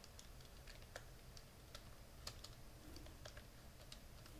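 Keys tapped on a computer keyboard during a game-development session, with irregular soft clicks spread across a faint steady background hum and no talking.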